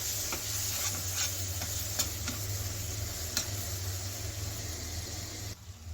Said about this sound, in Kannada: ಮಸಾಲೆ ಸ್ಮೆಲ್ಲು ಚೆನ್ನಾಗಿ ಹೋಗೋವರೆಗೂ ಫ್ರೈ ಮಾಡ್ಕೊಳ್ಳಿ